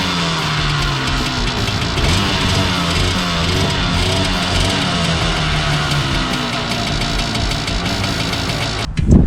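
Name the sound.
vintage ATV engine with stock exhaust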